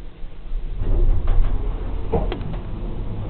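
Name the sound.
Kone hydraulic elevator door closing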